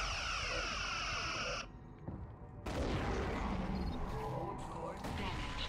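Torpedoes launched and striking a target in a space combat video game make a loud, dense rumbling barrage that drops out briefly, then returns with a heavier booming impact and sustained roar while voices talk over it.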